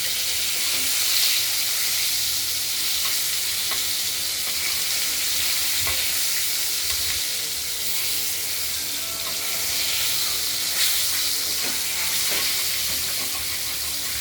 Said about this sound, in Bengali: এবার মাছের পিসগুলো একে একে ভেজে নেব হালকা বাদামি করে